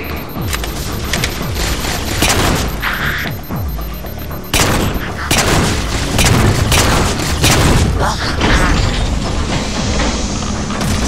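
Grenade explosions and gunfire during a firefight in the video game Halo 4, heavy booms and bursts of shooting piling up continuously and loudly, with voices talking over the din.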